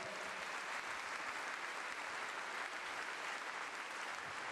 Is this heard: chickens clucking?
no